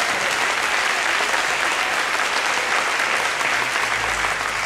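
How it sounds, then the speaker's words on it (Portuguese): A church congregation applauds loudly and continuously, a dense, even wash of clapping hands throughout. "Aplauda ele, glorificando a Deus."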